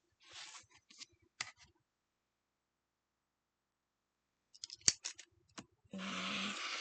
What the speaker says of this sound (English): Cut it corner to corner.